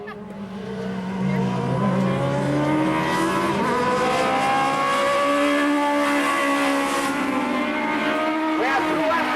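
Legends division race cars roar around the Tosa Raceway Park oval, several engines rising and falling in pitch as they pass close by, loud and sustained with a race announcer talking over them.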